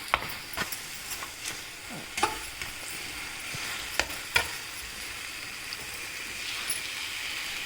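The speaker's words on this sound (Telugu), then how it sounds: "కాజు వేసి ఒక 2 మినిట్స్ ఫ్రై చేయాలి." Cashews frying in ghee for ash gourd halwa, a soft steady sizzle broken by scattered clicks and scrapes of stirring in the pan, faint and close, with no talking.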